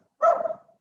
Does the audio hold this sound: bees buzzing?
no